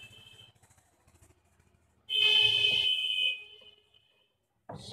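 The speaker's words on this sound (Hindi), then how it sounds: "यहाँ पे भी बीप साउंड आ रहा है" A multimeter gives a steady continuity beep of about a second while its probes test a shorted MOSFET on a computer circuit board, a loud tone standing out over faint background noise.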